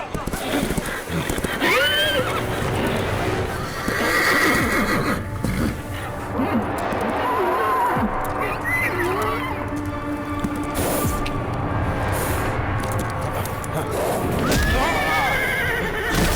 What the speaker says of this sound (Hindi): पहले जाके अपने बेकाबू हुए घोड़े को कंट्रोल करो।